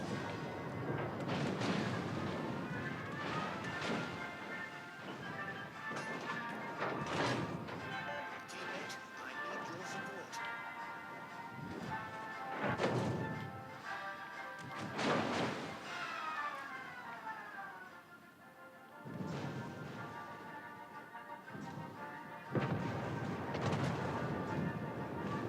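Torpedo hits and gunfire on a warship in the naval battle game World of Warships: Legends, with repeated heavy booms and crashes over a constant engine and sea rumble, while voices speak throughout.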